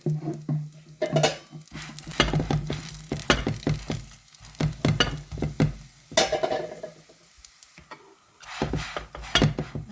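Veechu roti dough frying in oil on a pan gives an uneven, crackling sizzle that comes in bursts, mixed with repeated clatter of utensils against the cookware at close range.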